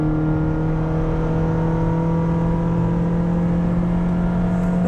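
Steady engine drone from inside a modded 2007 Toyota Camry LE, a constant low hum with strong tonal layers holding evenly throughout, loud and close, no talking.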